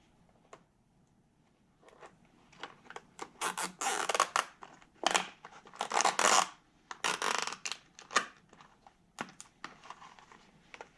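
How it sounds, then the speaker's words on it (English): A plastic zip tie is pulled tight around a part on a Yamaha Grizzly 600 ATV, making several short, close ratcheting rasps in quick bursts, with pauses between the pulls. "Let's put a little zip tie around this."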